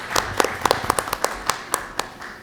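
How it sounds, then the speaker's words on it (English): Audience applause following a first public presentation at a school district curriculum and instruction budget meeting: a modest round of scattered claps, sharp and fairly close, thinning out over a couple of seconds. "I just want to give another round of applause for Jackie."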